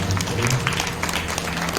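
An audience claps at a Shrimad Bhagavat Katha gathering in Mayur Vihar Phase 2, steady moderate applause over a low background hum.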